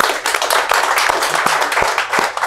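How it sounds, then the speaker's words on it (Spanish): Audience applause at a live comedy show in Chile: dense, steady clapping from a crowd, close and fairly loud for the whole stretch, with a few sharper individual claps standing out and no talking. "un aplauso para Venezuela y para Chile y para el mundo"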